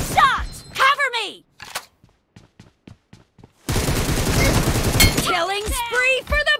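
Gunfire in a shooter video game sounds as isolated sharp shots and then a loud, sustained fusillade of rapid bursts, with shouted voices in between and over it.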